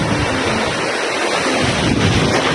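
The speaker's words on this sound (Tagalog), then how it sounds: "kita nyo naman kung gaano kalakas yung alon dito" Strong ocean waves crash continuously at a beach in summer, a loud, dense roar with wind buffeting the microphone and no talking.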